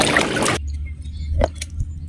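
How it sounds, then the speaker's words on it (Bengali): Water pours and splashes loudly over chopped ripe pumpkin pieces being washed, a dense rush for about half a second, then it cuts off, leaving faint drips and small clinks in a quiet room. "জলে ধুয়ে নেবো"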